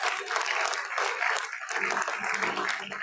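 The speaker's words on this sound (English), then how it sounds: "Parents, please keep on clapping and motivating our young ones" Parents clapping steadily at a pre-primary school convocation ceremony, a dense, continuous round of applause from a crowd filling the hall, with no speech over it.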